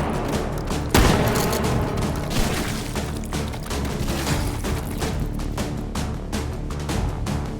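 Rapid shotgun fire in the VR shooter H3VR, a hard opening blast followed by a dense run of quick repeated shots and mechanical clatter, loud and close with no speech.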